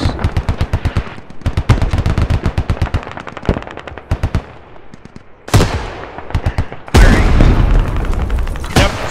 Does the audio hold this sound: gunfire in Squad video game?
yes